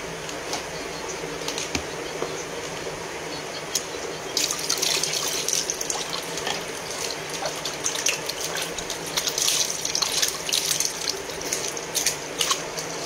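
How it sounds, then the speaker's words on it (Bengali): Tap water runs steadily into a sink while a face is washed with face wash, splashing and gushing close by with brief bursts of splashing, no talk heard. "আমি মুখটা ধুয়ে নেই।"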